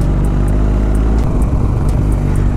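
Hayabusa motorcycle riding along a road, heard as a continuous loud engine drone with low rumble and wind noise, steady over the whole stretch, no talking.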